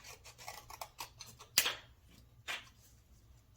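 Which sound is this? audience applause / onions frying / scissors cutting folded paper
scissors cutting folded paper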